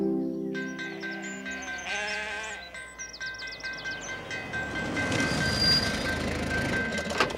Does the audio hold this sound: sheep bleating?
yes